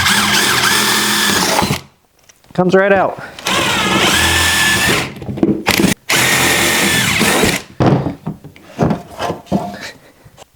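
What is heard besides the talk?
drill boring into the center of a plastic clip on a golf cart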